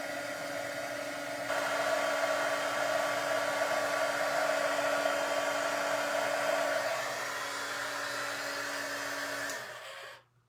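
A heat embossing tool blows hot air onto embossing powder to melt it gold on a wedding gift card holder, a steady loud blowing whir running throughout alone, then cutting off near the end.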